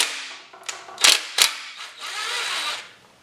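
Bolts come out of the oil pan on an AMC 258 engine in a Jeep CJ7: close metallic clicks and a couple of sharp ratchet bursts, followed by a steadier whirring tool sound, loud and without voices.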